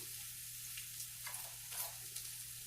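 Food sizzles steadily in a hot pan at home, a continuous frying hiss with faint crackles and small bursts of spatter, with no voices.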